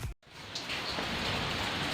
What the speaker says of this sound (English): Today is quite a rainy day